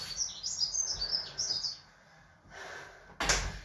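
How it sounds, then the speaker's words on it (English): Birds chirp and tweet outside an open door in a home workout space, a run of bright, fairly close calls, then a short pause and a sharp burst of chirping near the end. No one speaks. "Beautiful sounds of the birds,"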